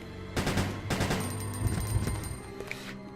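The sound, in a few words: gunfire shooting zombie in video game Resident Evil Code: Veronica X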